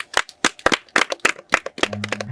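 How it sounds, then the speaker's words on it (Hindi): A family group clapping at home in a comedy sketch, roughly ten distinct, sharp claps in an uneven rhythm, close and fairly loud, with a steady tonal hum coming in near the end. "शाबाश, तालियां तालियां।"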